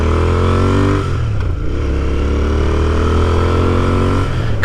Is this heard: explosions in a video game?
no